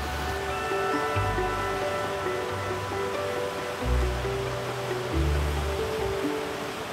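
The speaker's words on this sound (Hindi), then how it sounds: "वाटरफॉल देख रहे हैं जो किटोरा लेक में से निकल रही है, इंतहाई खूबसूरत।" Waterfall pouring out of Katora Lake in the Kumrat valley of northern Pakistan, a steady broadband rush of falling water heard up close, with low tonal rumbles shifting underneath throughout.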